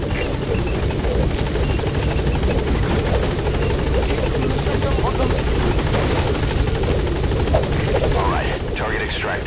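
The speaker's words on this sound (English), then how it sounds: "Put the target on the chopper." A helicopter in a video game mission chops steadily and loudly through the whole stretch, a dense rotor drone with in-game radio voices speaking over it.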